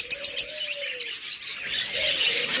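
Big-size budgerigar pairs at a bird sale chirp in quick bright bursts, with a thin whistled call weaving through a dense, continuous chatter of a close flock.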